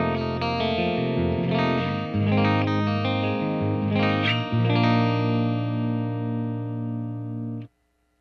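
Electric guitar played through the clean channel of a Headfirst Alta amplifier, sustained chords and single notes ringing loud and close with a lush effected shimmer, then cut off abruptly near the end.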